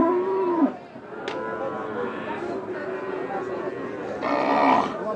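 Cattle at a busy open-air cow market moo loudly, one long low call opening the scene and another rising later, over a steady murmur of crowd chatter and voices nearby.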